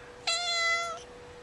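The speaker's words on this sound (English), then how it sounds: "She's a cat." A small, full-grown five-year-old outdoor cat gives one clear, close meow that lasts under a second against a quiet background.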